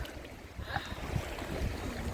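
Waves wash and lap at the Tylihul estuary, a continuous soft rush of water with wind noise, moderately near and steady throughout.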